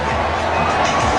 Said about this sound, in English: Absolutely nothing done to control the crowd in their excitement.